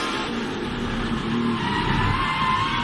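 A NASCAR race car, the 7 car, on Goodyear Eagle tyres roars by during racing, a loud continuous engine rush with a faint tyre squeal tone mixed in.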